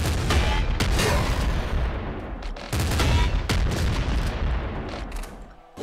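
Gunfire rings out in the video game Nuclear Throne, with loud bursts of shots and explosive booms in quick repeated clusters and brief pauses between them.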